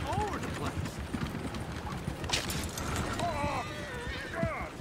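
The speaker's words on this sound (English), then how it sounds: "The horses! Damn horses!" Horse hooves clopping and a horse whinnying in a Red Dead Redemption 2 town scene, under busy game chatter with voices talking throughout.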